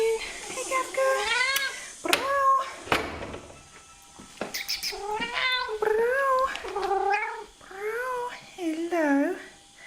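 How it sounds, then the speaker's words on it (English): A pet cat named Kafka meows repeatedly and insistently at close range, a series of drawn-out plaintive cries with short pauses between them, indoors. "Kafka, my lovely little cat."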